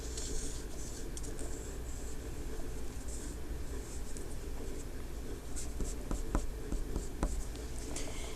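Steady scratchy strokes of a drawing tool on paper as a rabbit's big ears are sketched in an art class cave-drawing lesson, close and continuous with a few sharper taps near the end.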